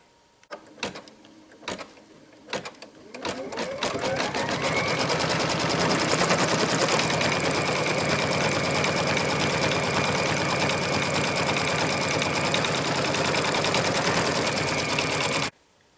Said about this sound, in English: and now I'm going to put the lining on and do the final stitch